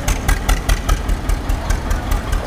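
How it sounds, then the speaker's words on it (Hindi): A tractor engine runs close by on a flooded village road, its steady, loud idling chug pulsing in a regular rhythm with no talk over it. "तो ट्रैक्टर भी आने लग रहा है"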